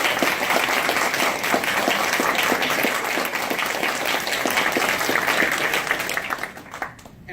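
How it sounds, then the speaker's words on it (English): An audience at an evening scholarship event bursts into steady, dense applause for the parents, many hands clapping close and loud for about six seconds before it fades out at the end. "So let's give a round of applause to the parents."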